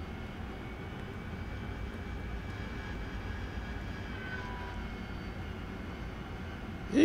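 Steady, loud roar of an AV-8B Harrier jet engine during a climb in the DCS World flight simulator over Syria, a continuous broadband drone with no talk, swelling slightly at the very end.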